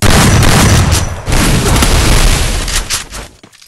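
Gunfire in a shooting video game crackles in loud, dense bursts of booming shots and impacts, continuous and close, fading out at the end.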